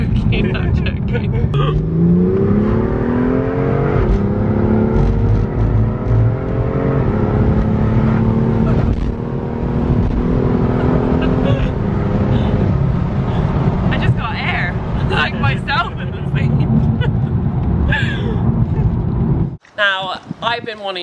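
A BMW M2 GTS accelerates hard from the cabin, its engine note climbing through rising gear pulls and shifting up, loud and close, with road and wind roar underneath and a voice speaking at the very end.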